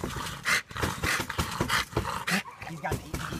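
A dog pants and growls nearby in short bursts, with whimpering yips mixed in while a voice talks over it.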